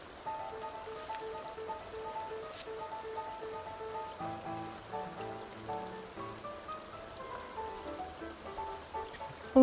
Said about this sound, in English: luckily it's still raining, and so it will take care of it